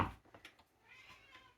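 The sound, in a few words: old pet cat meowing loudly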